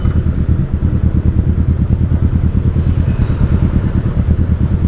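A Kawasaki Ninja 650 with a loud aftermarket exhaust rumbles steadily in stop-and-go traffic, a deep pulsing engine throb close by with no voices.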